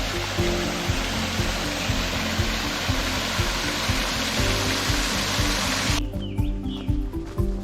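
Creek water rushes steadily along the Honey Creek Loop Trail in Big South Fork, a loud, continuous close-up flow that drops away abruptly near the end.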